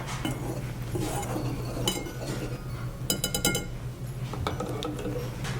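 A utensil mixes flour, baking soda, ground ginger, cinnamon and salt in a bowl, giving light clinks and taps against the side, with a quick burst of rapid clicks partway through.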